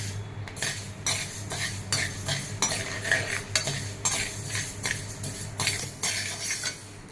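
Quick metallic scraping and clinking of a spoon stirring mustard and fenugreek seeds in a pan over a steady low hum, with faint crackling underneath.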